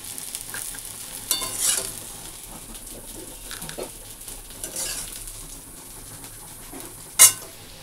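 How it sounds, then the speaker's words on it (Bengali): Dal with vegetables being tempered in a pan gives a steady low sizzle with occasional stirring scrapes and a sharp clink of utensil on metal near the end; no voices. "আর এই যে এখানে ডালের মধ্যে সবজি দিয়ে ডালটা ফোড়ন দিয়ে নিব।"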